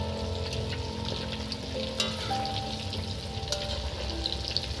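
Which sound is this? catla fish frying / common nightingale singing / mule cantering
catla fish frying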